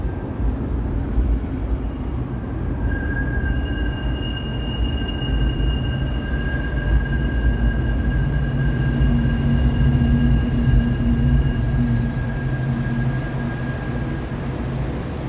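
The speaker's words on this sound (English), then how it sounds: "I hear a train passing over." A train rumbles across an overhead bridge in Toronto on a summer evening, a steady low roar with faint high tonal whines, heard from below and lasting the whole stretch.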